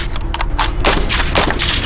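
A real-life replica of the Halo DMR rifle fired outdoors, giving a series of sharp, loud cracks spaced unevenly over a couple of seconds.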